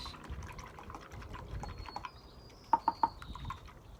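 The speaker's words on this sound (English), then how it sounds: "I can wash my paintbrush." A paintbrush is swished and tapped in a water pot during rock painting, with soft liquid drips and three quick light taps near the end; quiet and close, no talking.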